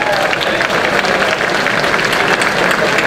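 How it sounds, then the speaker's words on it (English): An evening audience gives steady, dense applause as Christian von Koenigsegg drives in a 2008 Koenigsegg CCXR, the clapping continuous and fairly loud throughout, with a faint crowd murmur underneath. "A round of applause, please."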